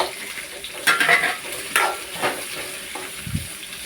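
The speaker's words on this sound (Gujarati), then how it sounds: "એકદમ હલાવશું" Green chillies stirred in hot oil in a pan for kanda poha, a soft sizzle running throughout with a few louder scraping strokes spaced out across a few seconds, no talking.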